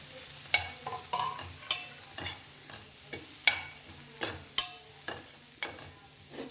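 Okra sizzles in a hot pan while a spatula stirs it in repeated scraping strokes, each stroke a sharp scrape over a soft frying hiss, close and moderately loud with no talk.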